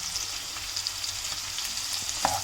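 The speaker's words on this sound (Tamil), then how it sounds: "சிக்கனை போட்டு எண்ணெயில் நல்லா வதங்கி அது எண்ணெயிலே வேகட்டும்" Chicken pieces sizzle in hot oil in a pan while cooking for chicken spaghetti noodles, a steady close frying hiss with a faint clink near the end.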